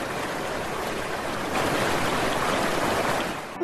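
Narayani river water pours through the opened gates of the Gandak dam, a loud, continuous roar of rushing water that swells slightly midway and holds steady.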